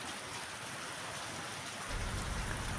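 Heavy rain pours down in Avinashi as a dense, loud, continuous hiss that deepens into a fuller roar partway through.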